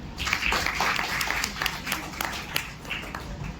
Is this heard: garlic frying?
no